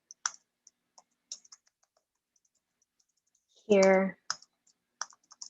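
Someone types on a computer keyboard in scattered, light clicks with pauses between bursts, close by, and a short spoken word breaks in partway through.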